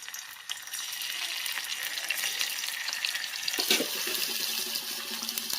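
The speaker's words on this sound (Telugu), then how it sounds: "ఇప్పుడు ఆయిల్ హీట్ అయింది, మనం ముందుగా కట్ చేసి పెట్టుకున్న పన్నీర్ ముక్కల్ని దీంట్లో వేద్దాం." Cut paneer pieces fry in hot oil, a steady broadband sizzle filling the whole stretch with a brief louder burst of bubbling partway through, close and continuous with no talking.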